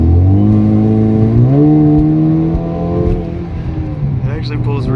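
A 2.0-litre four-cylinder turbocharged Camaro running on E85 pulls hard under steady acceleration, its engine tone climbing smoothly and close, with faint chattering noises near the end.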